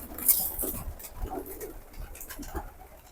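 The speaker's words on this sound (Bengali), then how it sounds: "আমাদের কাছে যে কবুতরগুলো দেখতে পাচ্ছেন, এখন আমরা হচ্ছে এগুলাকে খাবার দিব।" Pigeons cooing nearby as they are fed handfuls of wheat, soft low coos repeating over a faint background with light rustling.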